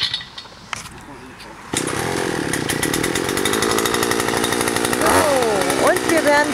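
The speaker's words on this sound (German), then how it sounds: "werde ich die Löcher für die Pflanzen einfach mit dem Erdbohrer vorbohren" A motorized earth auger starts up and drills planting holes in garden soil, a loud, steady engine drone with a rough, buzzing tone that rises and falls as it bites into the ground, preceded by a quieter outdoor start.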